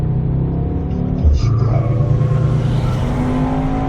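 A sports car engine in Sport Plus mode rumbles and hums steadily up close, with a brief rise in revs partway through; no speech.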